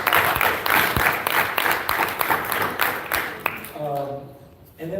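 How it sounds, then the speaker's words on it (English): Attendees at a Levy County meeting applaud with steady, moderate clapping that fills most of the moment and then fades out. Voices murmur beneath it, and a short tonal sound comes in near the end. "I think that deserves a round of applause"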